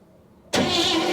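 A barn-find Pontiac Star Chief, left sitting for 42 years, is cranked over. After a moment of quiet, a loud, steady burst of engine cranking noise starts abruptly and holds to the end.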